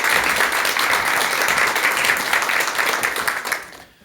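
A lecture audience gives loud, dense applause to welcome the speaker, sustained clapping that fades out toward the end.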